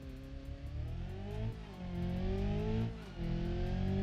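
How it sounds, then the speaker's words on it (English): A Honda Civic Type R engine roars hard as it launches from standstill, climbing in pitch through quick gear changes, loud and close with a faint whine overhead. "the car has a really great launch, and what a sound from this engine."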